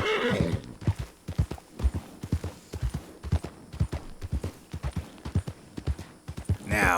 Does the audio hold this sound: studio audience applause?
no